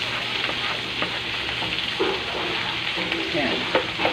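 Garlic, onion and tomato frying in a pan for pinakbet, a steady close sizzle with occasional stirring clinks and scrapes.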